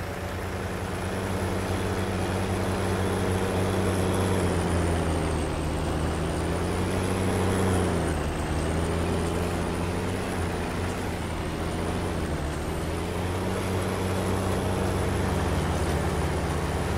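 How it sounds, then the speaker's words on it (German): A loud Fiat tractor engine in Farming Simulator 19 drones steadily at close range, a constant low rumble with layered harmonic hum that barely shifts in pitch across the whole stretch, with no talking over it. "Der Fiat ist so laut, da höre ich gar nicht, ob mein Trecker hier überhaupt an ist"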